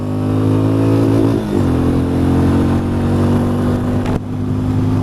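A 2020 Benelli 400 Imperiale motorcycle accelerates hard up a motorway, its steady engine drone climbing in pitch, dipping briefly at a gear change around the middle and again near the end before pulling on, loud and close throughout.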